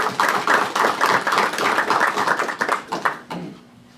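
Attendees at a Mercier town council meeting give a short round of applause, brisk claps of a small group that thin out and stop near the end.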